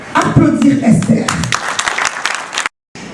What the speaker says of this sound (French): j'aimerais qu'on puisse applaudir Esther